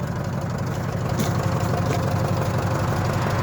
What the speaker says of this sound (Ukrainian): Відправляємо тракторець